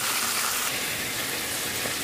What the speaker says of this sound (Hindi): चिकन को भूनते हुए 10 मिनट हो गए और मैंने चूल्हा बिल्कुल स्लो रखा हुआ है।